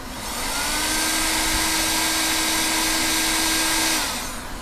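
A heat gun shrinks heat shrink tubing over a soldered 5V red wire joint, blowing a steady, loud whirring hiss that ramps up, holds for about four seconds, then cuts off.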